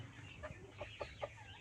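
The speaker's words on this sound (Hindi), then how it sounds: "ये मुर्गे बहुत ज़बरदस्त मुर्गा, देसी मुर्गा ये बड़ा वाला" A large desi rooster gives several short clucks, four brief low calls spaced unevenly over steady background noise at a moderate distance.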